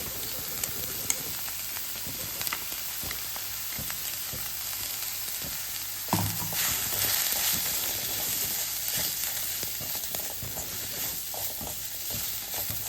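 Freshly ground masala paste frying in hot oil in a pan gives a steady, close, dense sizzle, with occasional louder bursts as it is stirred and no talking.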